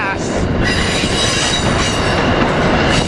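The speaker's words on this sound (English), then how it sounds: "Northeast Regional Train 129, ACS 64 649 leading this train coming in to 30th Street here" An Amtrak Northeast Regional train led by an ACS-64 electric locomotive rolls into 30th Street station at speed, making a steady loud roar of wheels and rail noise with squealing wheels and faint clickety-clack throughout.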